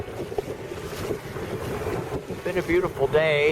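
A sailboat motoring almost straight into the wind with wind buffeting the microphone and water rushing past the hull, a steady rough roar under a person talking.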